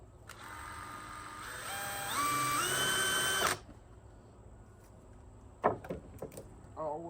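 A power drill whines and rises in pitch as it drives a screw into deck boards for a few seconds, then stops, followed by a few scattered clicks and knocks.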